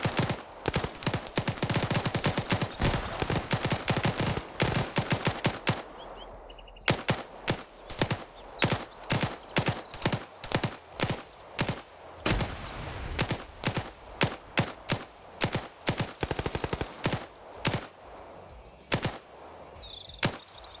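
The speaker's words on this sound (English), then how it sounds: "Sancho takes fire from Viper." Rapid gunfire from a PvP shooter match, dense bursts of automatic fire in the opening seconds giving way to spaced single shots and short volleys that continue steadily throughout, loud and close with no talk.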